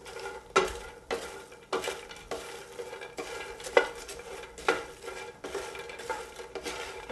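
Bread cubes are stirred through garlic-flavored olive oil in a skillet with a utensil, giving regular scraping strokes about once a second over a soft, low background sizzle, close by with no talking.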